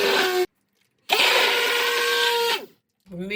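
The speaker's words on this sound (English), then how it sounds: "you just want to hold your blender on go and whiz it around." A stick blender whirs in two bursts while blending oil into homemade mayonnaise in a jug, a short burst then a longer steady buzzing run, with a voice starting at the end.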